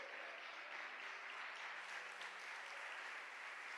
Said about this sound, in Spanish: Yo le daría palmas al Señor por esto